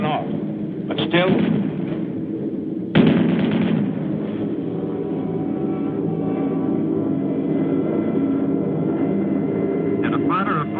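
Anti-aircraft flak fire during WWII bomber combat, heard as sharp blasts near the start over a constant roaring aircraft-engine drone, with someone narrating throughout.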